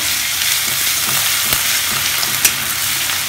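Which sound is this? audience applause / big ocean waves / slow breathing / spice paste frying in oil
spice paste frying in oil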